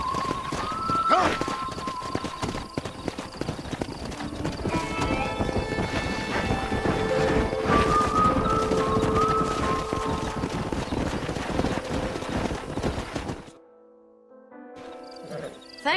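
In Red Dead Redemption, a horse gallops with rapid clip-clopping hooves and snorts, the pounding steady and close for about thirteen seconds before dropping off to near silence and a brief faint stir.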